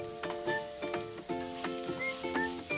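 Potato, carrot and peanuts fry in oil for sago khichdi, a continuous close sizzle broken by repeated rhythmic stirring scrapes and a few faint high clinks.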